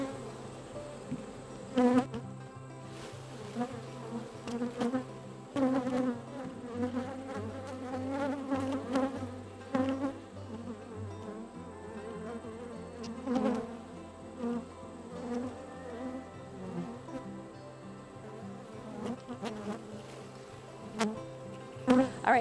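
Honey bees buzz after being shaken from a hive frame onto a telescoping cover, a close, dense, wavering hum that swells and dips with many overlapping wingbeats.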